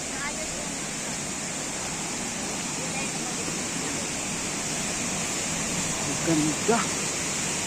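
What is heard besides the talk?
Kuala Falls waterfall in Taytay, Laguna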